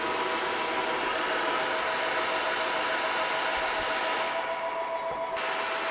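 An Ultenic cordless wet dry vacuum runs its self-cleaning drying cycle, a steady, loud whooshing motor roar with a high whine that drops in pitch as it begins winding down near the end.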